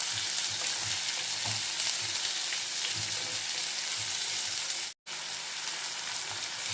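Sliced onions with green chillies fry in oil in a pan, giving a loud, dense, unbroken sizzle with faint bubbling pops, cut by a sudden brief silence near the end before the sizzling resumes.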